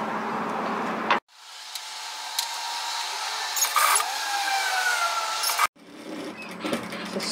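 A sewing machine stitches fabric for a reusable two-cup piece, a continuous whirring drone of several seconds with small clicks, starting and stopping abruptly between quieter handling sounds.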